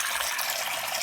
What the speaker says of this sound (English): And then I fill the bowl with some water.